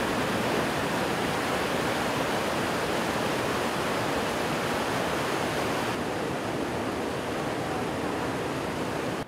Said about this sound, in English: One of these was precariously perched above a fast-flowing stream.